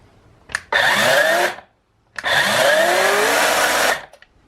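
A WORX WG381E cordless electric chainsaw whirs up twice in loud sustained bursts, its motor pitch sweeping upward as it spins up with a soft start, with a short silence between runs.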